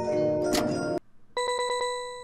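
A music box in the Five Nights at Freddy's video game plays a bright, chiming repeated melody of evenly spaced plucked tones, following a burst of noisier sound and a brief pause.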